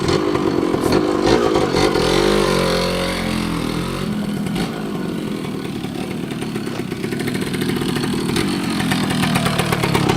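A 1993 Kawasaki KE100B motorcycle engine revs loudly up close, then settles into a throaty, pulsing idle and rumble as it rolls along a street.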